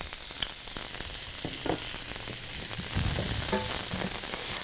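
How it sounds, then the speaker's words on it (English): Onions added to a hot pan sauté with a constant, dense, crackling sizzle that stays loud and close throughout, slightly swelling toward the end, with no voices. "You're going to toss the onions in right now as well."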